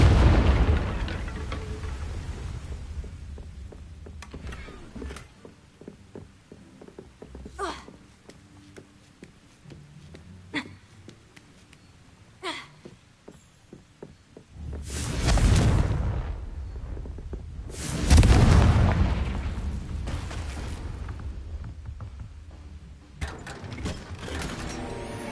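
Confringo spell blasts in Hogwarts Legacy erupt as two heavy, rumbling explosions in the middle of the clip, surrounded by sharp magical cracks, clicks and softer combat sounds.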